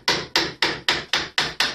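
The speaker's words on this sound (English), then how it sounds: "mahogany is great for carving because you can hear it cut" Seven evenly spaced sharp strikes of a carving tool biting into mahogany, close and crisp, each decaying quickly in a steady rhythm.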